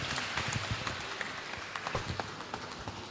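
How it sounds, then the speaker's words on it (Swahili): Congregation clapping in praise of Jesus at a Kikuyu church service, scattered overlapping claps over a steady rumble of the room, no clear speech. "piga Yesu makofi"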